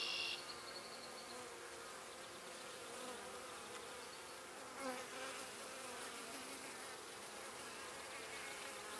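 Honey bees swarm around an open hive during a week-two inspection, a dense, steady buzzing drone that stays loud and constant, with a few nearer buzzes rising briefly above it.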